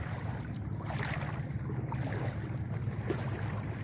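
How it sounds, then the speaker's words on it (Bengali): A boat moves across a flooded river, giving a continuous low rumbling drone mixed with rushing water and wind noise, steady and fairly close, with no speech. "হয়তো আপনারা নৌকার শব্দটা পাইরা"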